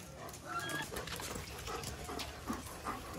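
A dog whimpers and whines in short, uneven bursts while being shampooed with a protein dog shampoo during a bath, the cries close and moderately loud over splashing and handling noise.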